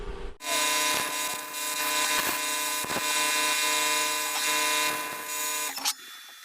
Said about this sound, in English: Grind that little spot out, and we'll get to welding her up.